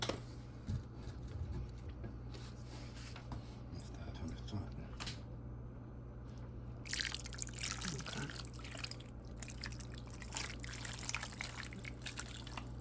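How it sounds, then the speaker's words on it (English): Liquid poured over a seafood boil in a bag with purple onion, a steady close pouring and trickling that rises in the second half, with a constant low hum underneath. "So we're gonna go ahead and pour this over."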